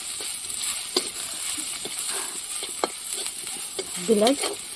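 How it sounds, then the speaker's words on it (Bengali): Greens going into a pan of browned garlic and onion, frying with a soft continuous sizzle and occasional stirring clinks and scrapes, close and moderately loud, with no talking. "এখানে এই রসুন পেঁয়াজটা লাল লাল হয়ে গেছে তারপরে দিয়ে তো শাকটি তো শাকটি দিয়ে দিচ্ছে"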